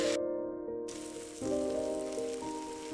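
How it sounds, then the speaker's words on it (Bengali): Onions frying in oil in a pan for a Bengali mirka fish mash, giving a steady, close sizzling hiss throughout, with faint tonal sounds running underneath. "এই তো ভেজে নিলাম পেঁয়াজটা"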